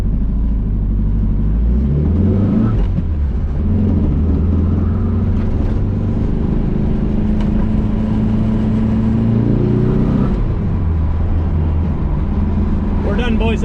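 A stroked, high-compression turbo engine idles at a deliberately raised speed, giving a steady, loud, low rumble with a throbbing hum that holds throughout and swells briefly in places.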